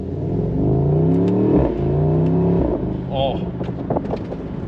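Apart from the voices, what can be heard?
2024 Mercedes-AMG SL63 exhaust crackles, pops and blow-off valve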